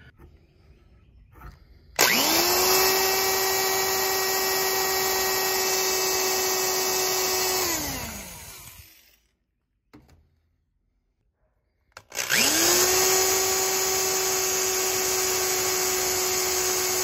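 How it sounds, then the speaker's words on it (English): A power drill boring holes in a 180 degree thermostat for a Dodge Ram Hemi 5.7, whining loud and steady for several seconds, winding down, then starting up again after a pause. "I drilled three 1/8-inch holes in the thermostat"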